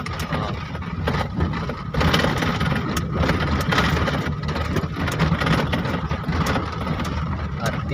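A car engine runs steadily on a driving road test in the rain, its revs rising slightly as the driver eases off the clutch, a continuous close drone with faint talk underneath.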